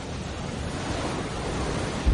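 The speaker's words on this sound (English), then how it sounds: "The hurricane's sheer wind power drives waves from far out at sea, increasing the high tide by as much as 20 feet." Hurricane-driven ocean waves and storm surge make a steady, dense roar of surf mixed with wind, loud and unbroken throughout with no distinct breaks between waves.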